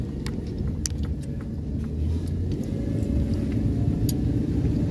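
A car climbs a short hill on a brief drive, its engine and tire rumble steady and close from inside the cabin, with light rattles and jingling above the low drone.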